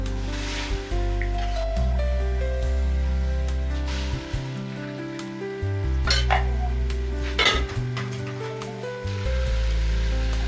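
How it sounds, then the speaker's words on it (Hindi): Frozen meat for aloo gosht fries in hot oil with a constant close sizzle while a utensil stirs and scrapes against the pot in irregular clanks. "बस ये ऑयल में अब जो है ना मैंने ये गोश्त डाल दिया है।"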